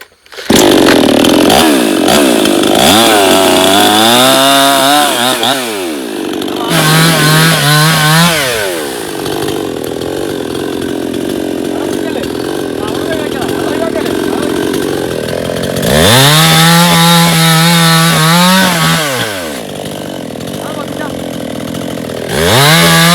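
A chainsaw cuts through trees, its engine revving up and down loudly and continuously, with a steady idle between bursts of cutting.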